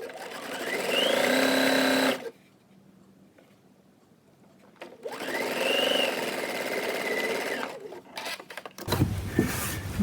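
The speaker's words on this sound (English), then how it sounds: "So now what we're going to do is we're going to stitch this top part down." A sewing machine stitches down the top edge of a pleated fabric face mask in two steady whirring runs of rapid needle chatter, separated by a quiet pause and followed by a few short handling clicks.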